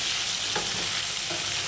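Meal maker pieces fry in hot oil until golden brown, a loud continuous close sizzle with faint stirring scrapes and no talking.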